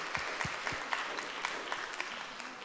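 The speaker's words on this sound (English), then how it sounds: "can we just give another round of applause to Tony and Dr." A congregation applauds during an online church worship service on diabetes, with many hands clapping in a soft, even, continuous patter that stays fairly distant and low in level throughout.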